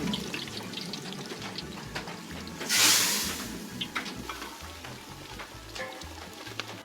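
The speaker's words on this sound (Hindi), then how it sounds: "टमाटर पनीर भी तैयार हो चुका है और हाथ में तड़का लगा के थोड़ा और भुना जा रहा है" Tomato paneer fries in a pan with a spiced tempering at a Kashmiri wedding feast in Srinagar, giving a steady close sizzle that flares into a loud hiss midway, over a low rhythmic background.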